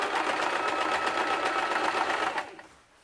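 A sewing machine runs steadily while stitching a Viking-style hood, a fast continuous whirr of needle strokes that cuts off and fades near the end.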